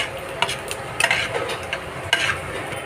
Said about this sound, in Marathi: थोडासा अजून तांबूस होऊ द्या कांदा.